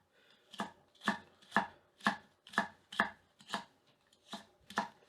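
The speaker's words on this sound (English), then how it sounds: "Push cut is going well." Nine evenly spaced, crisp knife strokes as a Bunka knife push-cuts through a carrot on a board, each stroke a sharp close-up crunch followed by a soft knock, with no talk.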